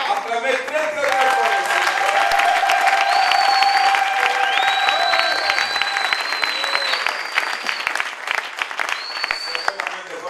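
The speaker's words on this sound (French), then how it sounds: "Acclamez très très fort." A church congregation in Paris breaks into loud, sustained applause and cheers that fill the room, with scattered shouts and voices on top. The clapping stays dense and steady from start to finish.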